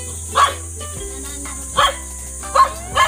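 Dogs bark in four short, separate yaps spread across a few seconds, moderately close, over a low steady background.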